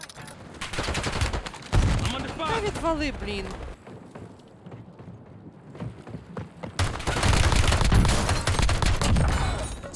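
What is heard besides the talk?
gunfire in a video game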